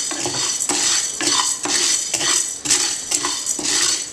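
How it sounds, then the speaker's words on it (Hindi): Sago pearls roasting dry in a pan, stirred steadily with a utensil over medium heat: brisk, rhythmic scraping strokes about twice a second, close and fairly loud, with no talking. "सो देखिए जैसे ही साबूदाना भूनते आ रहा है"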